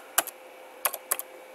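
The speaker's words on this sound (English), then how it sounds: "start typing feedback" Three short bursts of keystrokes on a computer keyboard, each a quick pair of clicks, close and clear over a quiet background while entering commands in Studio 5000 software.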